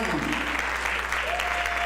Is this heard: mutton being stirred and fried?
no